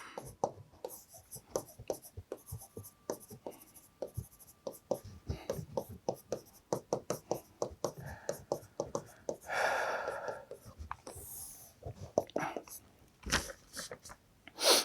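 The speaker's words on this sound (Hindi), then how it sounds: "मैं लिखता हूँ उसको" Handwriting during a current-affairs lecture, a pen or marker scratching out a run of quick, irregular strokes and taps, fairly close, with brief pauses and a short louder scrape partway through.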